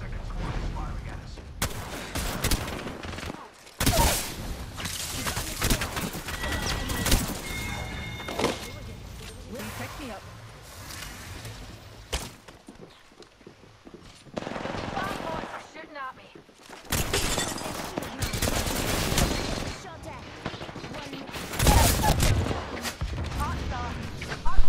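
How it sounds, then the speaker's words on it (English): Bursts of enemy squad gunfire in the battle royale game Apex Legends crack in scattered volleys with pauses between them, moderately loud, while a player talks over the shooting. "A second squad is firing at us."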